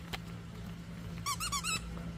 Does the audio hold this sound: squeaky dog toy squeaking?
yes